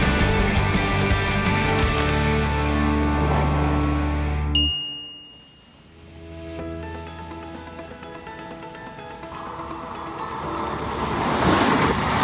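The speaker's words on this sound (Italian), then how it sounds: "Viaggiare con i treni regionali per raggiungere i borghi storici dell'Alto Adige è facile e divertente." A regional train in Alto Adige near Chiusa runs with a steady tonal rumbling hum. A brief chime sounds, the noise dips for a moment, then the rolling drone builds back up.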